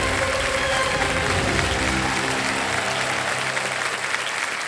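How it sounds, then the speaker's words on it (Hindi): A television quiz-show studio audience breaks into loud, sustained applause, a dense wall of clapping that holds steady and tapers only slightly toward the end, with light background music underneath. "एक बार जोरदार तालियां बज जाएं उनको।"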